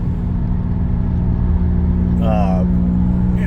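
Subaru WRX cruising on an open road, a steady low engine and road drone heard from inside the cabin, with a brief tonal whine partway through and talk over it.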